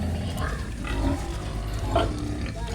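A pregnant sow that had been vomiting and refusing feed grunts low and steadily while eating, over a constant farmyard rumble.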